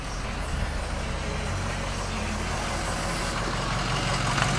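A 2005 Ford F350 diesel truck engine idles steadily up close, a continuous low rumble with a broad even roar and no notable changes in pitch throughout.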